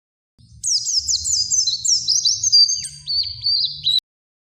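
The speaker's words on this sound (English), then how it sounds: "P for parrot." A parrot chirps in a quick run of bright, high tweets and whistles, close and clear, with a low rumbling hum beneath, ending abruptly.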